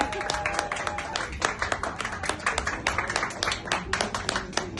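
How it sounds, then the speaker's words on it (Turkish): Bar audience in Beyoğlu claps in a lively, uneven round of applause, sharp overlapping hand claps of moderate loudness filling the room, with a few voices mixed in. "Kocaman bir alkış rica edeceğim"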